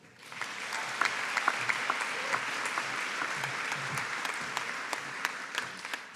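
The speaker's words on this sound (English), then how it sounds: "So a big round of applause," Steady audience applause fills a graduation ceremony hall, a moderately distant wash of many clapping hands with a few sharper nearby claps standing out, sustained evenly for several seconds.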